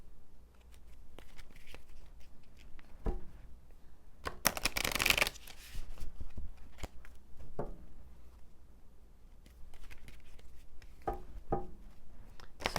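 An oracle card deck is shuffled close by, with a quick riffling burst in the middle of soft handling taps and shuffling noises before and after, no voices.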